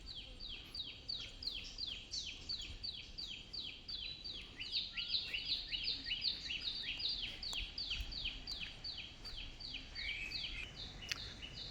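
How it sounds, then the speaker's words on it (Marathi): Sparrows chirping in a quiet Konkan island village, a quick run of repeated bright chirps carrying on steadily over faint outdoor background, moderately distant. "चिमण्यांचा चिवचिवाट ऐकू येतो."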